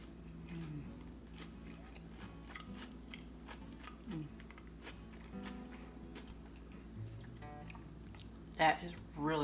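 Someone biting and chewing a double chocolate peanut butter crumble bar, with soft close crunches and mouth sounds repeating at an irregular pace, plus a sharper rustle near the end.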